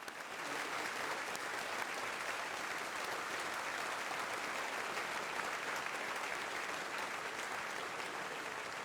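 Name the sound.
audience applause for the debaters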